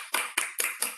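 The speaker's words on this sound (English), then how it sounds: "Let's have one big round of applause for Pathshala teachers." Four crisp, evenly spaced claps land close to the microphone in quick succession, honouring Pathshala teachers at an online Jain Paryushan celebration. No talk can be heard over them.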